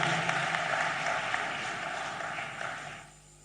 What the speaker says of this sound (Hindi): एक बार फिर तालियां बजा के अभिनंदन कीजिए